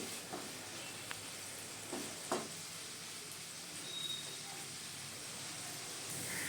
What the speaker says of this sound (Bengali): উচ্ছেগুলোকে কড়াইয়ের মধ্যে ছেড়ে দিলাম উচ্ছেটাকে আমরা খুব সুন্দর করে প্রথমেই ভেজে নেব